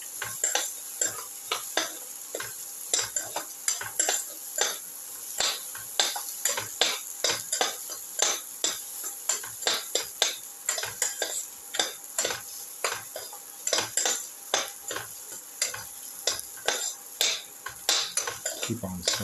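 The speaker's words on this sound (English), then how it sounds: "saute thoroughly." Ginger, potato and tomato being sautéed in a pan, with a steady stream of close, rapid scraping and clinking stir strokes over a soft background sizzle.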